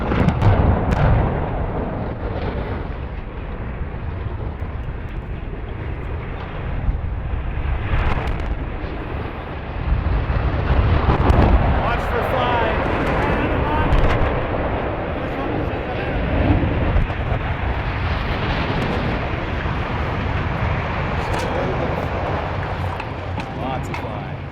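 Explosive demolition blast of stack 2 at the Nanticoke coal generating station: a long, deep, loud rumble that rolls on and swells, heard from a distance.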